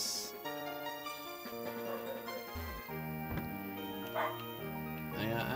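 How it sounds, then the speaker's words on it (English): A pet dog barks and yips in short bursts behind a Pokemon Platinum game soundtrack. The barks come several times at uneven gaps, fairly distant and partly masked by the music. "my dog's barking right now"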